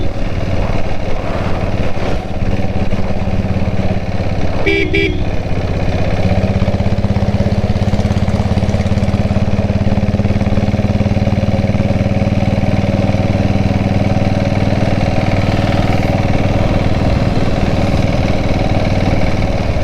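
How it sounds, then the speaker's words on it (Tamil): A diesel Royal Enfield Bullet motorcycle cruises at speed on a solo ride, its engine a loud, steady low drone with continuous wind rumble, close and unbroken with no talk. "சிக்ஸ்டியில் போயிட்டுருக்கேன். ஆக்சுவலாக அப்படியே வண்டி அப்படியே போகுது."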